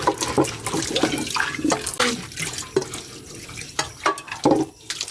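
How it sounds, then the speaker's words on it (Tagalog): Tap water runs and splashes into a wok as it is rinsed and scrubbed, steady and close with uneven bursts of spray and clatter. No one speaks. "Hugasan ko muna itong kawali ko"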